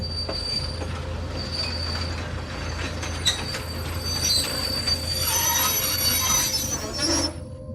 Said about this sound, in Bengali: হঠাৎ ট্রেনটা দাঁড়িয়ে পড়ল।